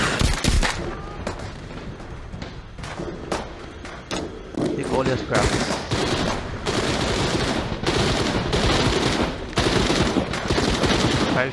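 Gunfire in the video game The Walking Dead: Saints & Sinners, with loud bursts of shots and sharp cracks repeating over several seconds while a player talks over the action.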